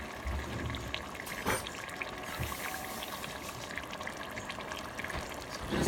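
Tomato sauce pours into a pan of stuffed-pepper filling with diced onions, a continuous close, wet gurgling pour with a soft splat near the start and light clatter.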